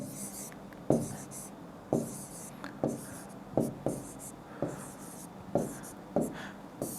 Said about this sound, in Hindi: मान लो एक बड़ी संख्या मैं लिख रहा हूं